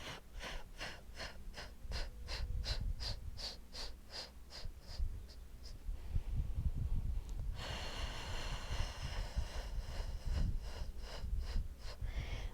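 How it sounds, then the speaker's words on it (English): Forceful, rhythmic puffs of breath pushed out during an abdominal workout, a rapid series of short exhalations repeating steadily over a continuous loud background, then slowing into stronger bursts. "breathing out for as many as you can until all of the air has left your body"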